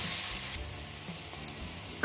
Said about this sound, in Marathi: कांदा आपल्याला छान लालसर रंग येईपर्यंत छान परतून घ्यायचा आहे